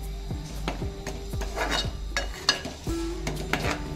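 A spatula scrapes and clinks against a pan while drumstick masala is sautéed, with repeated metallic stirring strokes and a low sizzle underneath at moderate volume.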